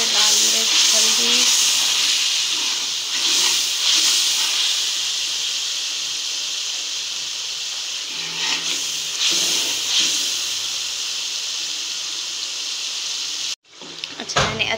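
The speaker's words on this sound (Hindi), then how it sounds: "अच्छे से इसकी भुनाई कर ली है, आलू की, मटर की" Potatoes and peas roasting with red chili and turmeric in a pan, a continuous steamy hiss and sizzle with faint stirring scrapes, ending in a brief clatter.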